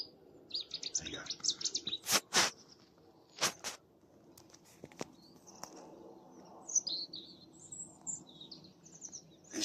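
Small birds calling at a farmland wetland reserve, among them a Cetti's warbler, with scattered high chirps, sharp bursts and short phrases, some close and some distant, over quiet background.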